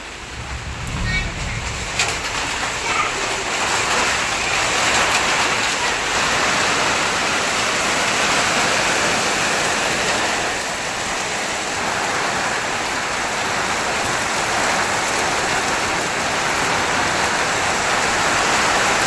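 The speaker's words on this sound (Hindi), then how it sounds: "पूरा सुबह से लेकर अभी तक बारिश ही दे रहा है।" Heavy rainfall pouring down outdoors after a storm in Hojai, a dense, loud, continuous hiss of rain that holds steady throughout, with no voices heard.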